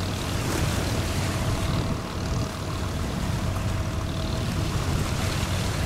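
A tugboat tows a ferry carrying an excavator out on the sea, its engine droning steadily under a broad rumble of water and wind, continuous and fairly loud with no voices.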